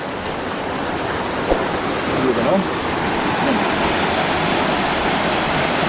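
River water rushing down from Penfield Falls in Jamaica's Blue Mountains, a steady broadband roar that fills the scene, with a brief spoken remark over it.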